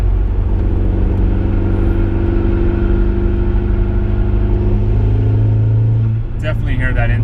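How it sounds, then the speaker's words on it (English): Steady loud engine drone from inside a moving Audi A4 with an upgraded K04 turbo, with a rising whir of the turbo spooling up and a brief burst of intake noise near the end. "You could hear that turbo spin up and pull that air in"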